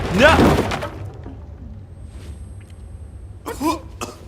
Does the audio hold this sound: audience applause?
no